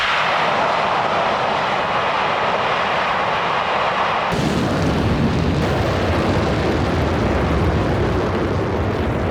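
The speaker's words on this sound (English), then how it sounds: "We have ignition and liftoff of Discovery on a research flight for the Department of Defense." Space Shuttle Discovery lifts off on a Department of Defense research flight, a continuous, loud, broadband rocket roar that thickens and grows heavier partway through, with no voices heard.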